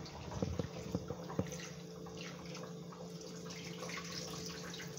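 Tap water running over okra and pimento being washed in a kitchen, a faint steady stream with a few soft splashes and handling knocks early on.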